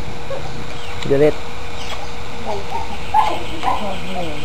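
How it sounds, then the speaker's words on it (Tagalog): Dog at a New Year gathering in Bulacan giving a few short, sharp barks and yips at intervals over a hum of household background noise. "Yan ba si ano, yung aso mo, Mayan?"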